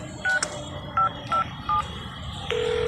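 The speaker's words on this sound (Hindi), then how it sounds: "मैं कार से बाहर निकला और अथर को फोन मिलाया" A phone number is dialed: a series of short touch-tone beeps in an uneven rhythm, followed by the start of a steady tone.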